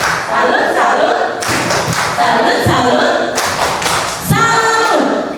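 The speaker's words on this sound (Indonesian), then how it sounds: "Kita kasih juga tepuk salut." A group does a 'tepuk salut' clapping routine, bursts of rhythmic claps and thuds repeating loudly over several seconds, with voices chanting along.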